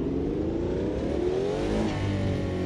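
Brabham BT46B fan car in Automobilista 2 accelerating in a very tall first gear, its engine droning loud and steady with the pitch climbing smoothly throughout, close and alone with no voices.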